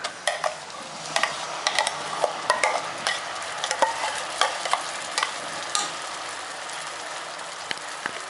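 Ground gooseberry paste for nellikai thokku sizzles steadily in a hot pan while a spoon stirs and scrapes it, making frequent light clicks and scrapes over a continuous close frying hiss.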